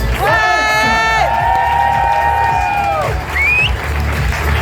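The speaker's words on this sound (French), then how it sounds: "alors on peut l'applaudir" A show audience cheers and applauds a crew member: loud crowd noise with a long, sustained shouted whoop and a brief rising whistle near the end.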